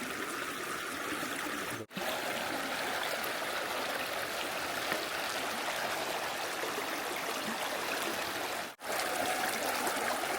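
Steady rushing and gurgling of cold river water on the Narmada, where a walker wades knee-deep through the current; a close, continuous flow sound without talk.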